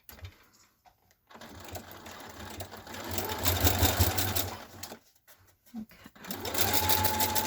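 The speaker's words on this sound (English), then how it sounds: "This piece right here is really hard to stitch through." Sewing machine straining to stitch through thick layers of hunting-vest material, its whirring motor running in bursts with short pauses between, close and fairly loud; a person says a word briefly.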